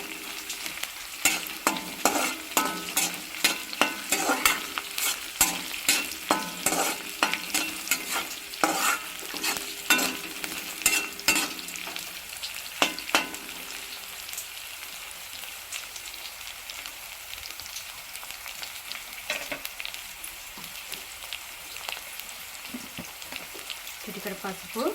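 Crushed garlic cloves frying in a pan for an aloo fry, with a steady close sizzle and repeated scraping stirs. The stirring is busy at first, then eases off into a quieter, even crackle.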